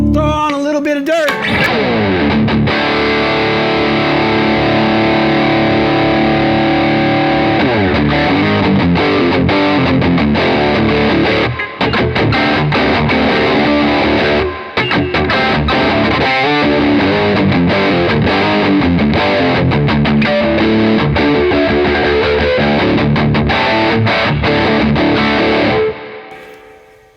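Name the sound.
electric guitar with overdrive through Bad Cat Jet Black amp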